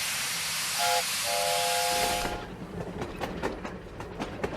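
A cartoon steam locomotive lets out a loud sustained hiss of steam with a tonal whistle blast over it, then the hiss cuts off and softer rhythmic chuffing and clanks continue.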